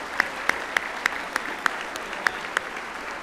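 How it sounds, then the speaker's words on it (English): Sparse, evenly spaced claps ring out at an alumni hall of fame ceremony for the honorees, about three per second, crisp and fairly faint over a quiet room. "if you would join me in a big round of applause for the honorees"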